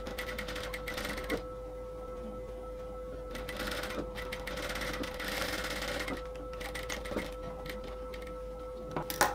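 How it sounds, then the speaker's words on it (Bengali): A home sewing machine runs slowly and steadily around the neckline of a nighty, its soft mechanical whir continuing throughout with small pauses and a faint ticking rhythm, fairly quiet and close. "এই সেলাইটা আস্তে আস্তে দিবেন, আর চারপাশে যাতে সুন্দরভাবে কুচিগুলো বসে থাকে সেটাও একটু দেখে সেলাইটা করবেন।"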